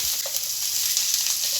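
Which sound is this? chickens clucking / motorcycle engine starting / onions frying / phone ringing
onions frying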